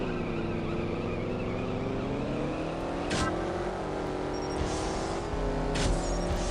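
Camaro race car engine in the drag racing video game CSR Racing, a steady loud drone with rising pitch through gear changes and two short shift breaks.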